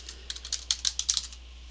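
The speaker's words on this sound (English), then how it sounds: "I can keep on typing" Quick typing on a computer keyboard, heard as about a dozen crisp, close key clicks in an uneven burst that grows slightly louder toward the middle, with no voices.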